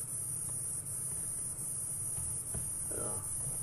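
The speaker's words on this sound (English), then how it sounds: "Cicadas are making a big noise." Steady insect buzzing, tagged as cricket-like, fills a game drive in the African bush. The sound is a continuous, fairly loud drone from cicadas, with a brief faint interruption near the end.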